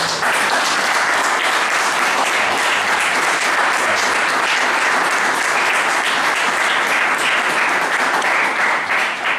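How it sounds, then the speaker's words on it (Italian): Loud, sustained applause from the audience at a blues concert at Pignola, a dense and continuous roar of many hands clapping that holds steady for the whole stretch with no speech over it. "facciamo prima un applauso."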